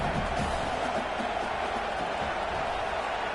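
A large, hostile stadium crowd at a Texas A&M college football game against UTSA roars in a dense, continuous wash of noise with scattered cheers, and a voice is faintly audible under it.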